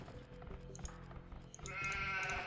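Sheep bleat in the Age of Empires 2 HD Edition video game, two or three short repeated calls over a steady game soundscape, with no talk.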